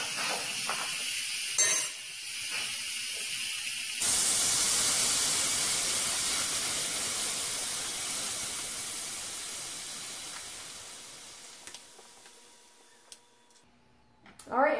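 Steam bursts from an Instant Pot pressure valve as the pressure is released after cooking an Israeli couscous mix, a loud steady broadband hiss that slowly fades over several seconds before tapering off with small knocks near the end.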